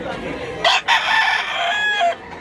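A rooster at a chicken market crows once loudly and close, a single drawn-out call rising and holding for about a second and a half.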